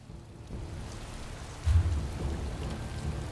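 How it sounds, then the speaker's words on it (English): Rain and a thunderstorm in The Elder Scrolls Online, a steady hiss of falling rain with a low rumble of thunder swelling midway, no voices. "I could do without this damnable rain. It's been storming since we arrived, and it shows no sign of letting up."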